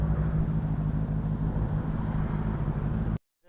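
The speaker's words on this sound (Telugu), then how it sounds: "Note వినిపిస్తాం, exhaust note వినిపిస్తాం." Benelli 600i motorcycle idling with its exhaust note as a steady, close, low rumble, cut off abruptly near the end.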